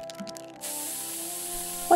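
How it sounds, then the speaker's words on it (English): A burst of pepper spray in the South Park: The Stick of Truth video game, a steady loud hiss starting abruptly and holding to the end over faint game music. "Why did he pepper spray me?"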